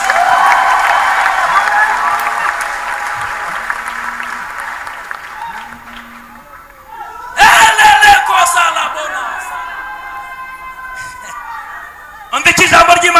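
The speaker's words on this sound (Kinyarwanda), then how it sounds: "Imana amashyi menshi" Church audience clapping in loud bursts during a Kinyarwanda worship service, the first swell following a long stretch of preaching and singing and a second burst rising at the very end.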